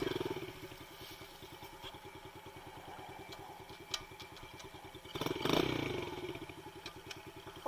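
Dirt bike engine running with a steady rapid putter, surging into a louder rev near the end as the rider tries to launch wheelies; a few sharp clicks and clatter sit over the engine.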